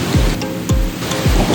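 Heavy rain pours steadily outdoors in a dense, continuous wash, with a few low thumping bumps recurring beneath it.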